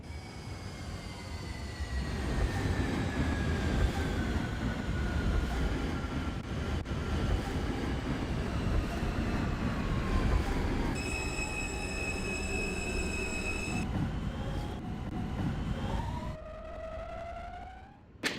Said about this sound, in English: This is a Coney Island, Stillwell Avenue bound F train via the D line.